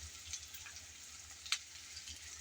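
Ginger-garlic paste frying in a pan with turmeric for a prawn dish, a faint steady sizzle close by with a couple of sharp crackles and spits, no talking.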